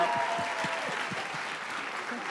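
Audience applause at an awards ceremony, a steady wash of clapping from a large crowd that continues evenly throughout, at moderate level, with no voices above it.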